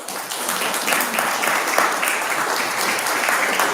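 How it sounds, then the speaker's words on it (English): A room full of people applauds at a city council meeting, a steady dense wash of clapping that holds evenly throughout at moderate loudness. "Ask respectfully if folks can hold their applause."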